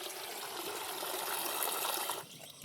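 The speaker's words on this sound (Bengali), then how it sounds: "জলটা বন্ধ করে আসি, জলটা বন্ধ করে আসি।" Water runs steadily from a garden tap used for watering plants, a continuous close splashing rush that stops abruptly near the end, with no talk.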